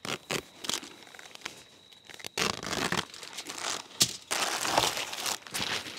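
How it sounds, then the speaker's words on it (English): Lamb is pulled from plastic packaging, with steady close crinkling and rustling of plastic, a few sharper tearing crackles, and no talking. "So first, I got the lamb out of the packaging."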